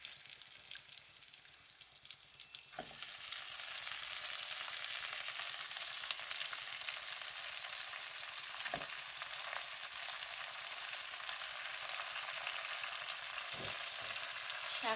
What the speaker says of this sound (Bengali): শাকটা দিয়ে এবার নাড়াচাড়া করে দেবো।